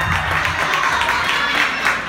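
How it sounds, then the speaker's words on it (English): Steady audience applause at a live relationship talk show, dense clapping filling the room evenly for a couple of seconds. "Clap it up. Somebody got a ring. Clap it up."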